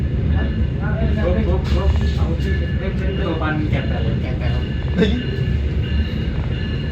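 The Gajayana executive passenger train rolls into Madiun station, a loud continuous rumble of wheels and carriage noise heard from inside, with faint squeals and voices in the background.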